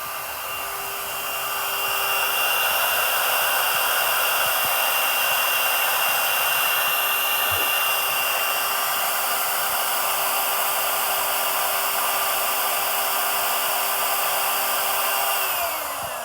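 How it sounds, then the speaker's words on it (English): A steel tube is notched for car headers in a race-car fab shop, with a steady loud grinding whine that holds unbroken for the whole stretch, without speech. "That's how I notch this tube."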